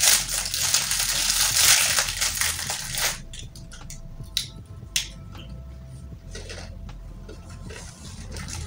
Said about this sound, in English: This is um, plantain chips. Let me see how it tastes like.